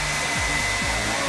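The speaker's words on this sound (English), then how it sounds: "And we call this one the Bernoulli blower." Bernoulli blower in a science demonstration, a steady loud rush of blown air with a constant hum, like a hair dryer, running throughout with no talk.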